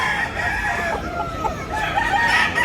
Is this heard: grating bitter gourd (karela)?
no